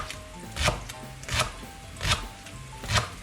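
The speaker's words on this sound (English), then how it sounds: "Now is the time to cut the leek" A knife chops through leek on a cutting board, four distinct, spaced thuds with a crisp fibrous crunch, close and fairly soft, no talking.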